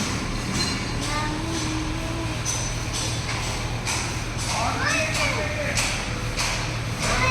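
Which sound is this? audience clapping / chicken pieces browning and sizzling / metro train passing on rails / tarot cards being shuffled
metro train passing on rails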